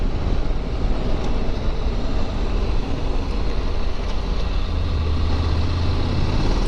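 A Honda NC700X motorcycle cruising steadily without shifting, its engine drone buried in a constant loud roar of wind rushing over the microphone that stays unbroken throughout.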